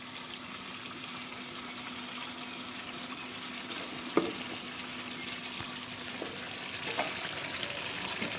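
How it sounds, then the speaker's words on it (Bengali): Potatoes added to mutton curry being fried in a pan, giving a steady soft sizzle with a few small clinks and knocks. "এবার এর মধ্যে দিয়ে দেবো আমি আলুগুলো"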